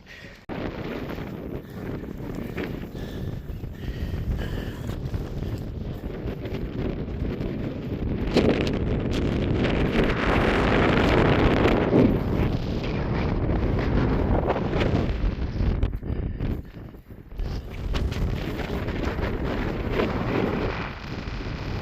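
Strong wind buffets the microphone with a continuous roar on a hike in the Brecon Beacons, swelling louder in the middle and easing briefly near the end.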